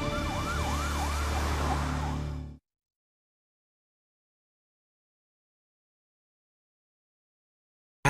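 A police car siren wailing during a high-speed pursuit in Ashe County, North Carolina, loud and close with rising and falling sweeps over engine rumble, then cut off abruptly into silence.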